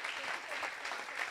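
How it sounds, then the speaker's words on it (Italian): Church congregation applauding during a live gospel service, a steady wash of clapping from many hands at moderate level, brief and continuous. "vogliamo fare un applauso"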